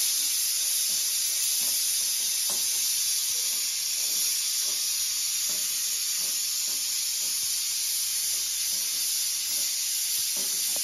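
Coriander seeds, sesame, poppy seeds, whole spices, garlic and ginger roast in a pan for a mutton dish, making a continuous dry hiss and sizzle with faint scattered crackles and light stirring scrapes throughout.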